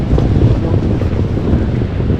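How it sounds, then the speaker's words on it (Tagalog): Strong wind near the sea in the Philippines roars and buffets the microphone continuously, a loud, rough rumble with no pauses. "Grabe, lamig. Lakas ng hangin."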